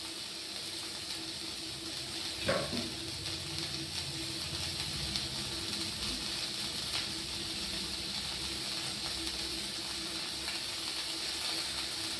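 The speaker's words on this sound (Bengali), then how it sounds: "চায়ের জলটা ফুটে গেছে" Water for tea boils steadily in a pot, a continuous close bubbling hiss with one brief clink near the start.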